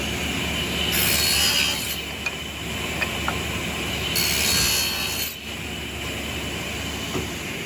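A saw cuts a quarter-inch-wide dado into wood for a garden bench, rasping in two sustained bursts with short pauses and small knocks between them, close by and without speech.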